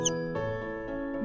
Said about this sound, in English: mouse, and its sound